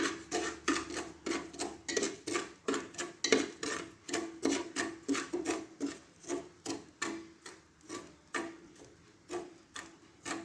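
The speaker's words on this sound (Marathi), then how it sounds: "मीठ असं सगळीकडून पसरून घ्यायचं आपल्याला" Salt being spread around the bottom of a heated pressure cooker while making jowar popcorn: close, steady scraping strokes repeating about twice a second for the whole stretch, with no talk.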